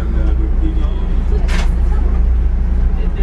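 A long-distance coach bus cruises on a cross-country trip in Malaysia after leaving Kuala Besut, its steady low engine and road rumble filling the cabin, with a brief hiss partway through and faint murmurs of talk in the background.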